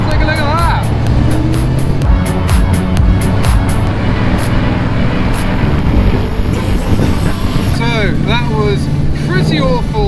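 Road traffic on a congested British road, heading toward a classic and supercar gathering, with a steady loud wash of passing car noise and engine rumble throughout, plus occasional higher whistling tones and some talk over it.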